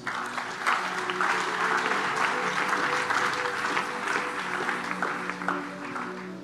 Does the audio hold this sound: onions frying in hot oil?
no